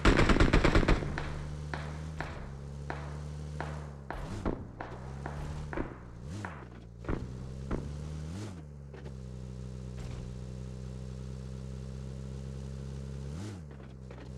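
Gunfire in a battle royale video game, an opening burst of rapid shots followed by scattered single loud cracks and footsteps over a steady low engine-like drone, no speech.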